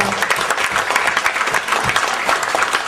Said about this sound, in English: Then we give her a big round of applause.